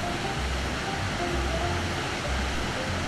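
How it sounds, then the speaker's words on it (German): Broad, steady rush of a wide but low waterfall on the Vilcanota river in the green hills of the Cusco region, Peru, a constant full-band roar with no pauses throughout. "Rechts von uns fließt der Rio Vilcanota und ergießt sich hier in einen nicht hohen, dafür aber breiten Wasserfall."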